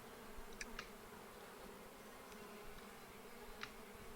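Bees buzzing in the beekeeping game APICO, a soft steady insect hum with a few faint higher chirps and blips over a low ambient bed, no talking.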